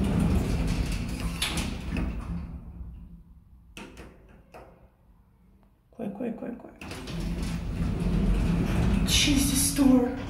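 An old, rusty generic elevator door slides with a scraping rush, going quiet midway and then rumbling and clattering again, with people talking over it.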